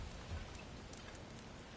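Steady rainstorm in God of War Ragnarök's desert realm of Alfheim, a continuous wash of falling rain with a soft low rumble beneath, even and unbroken throughout with no voices.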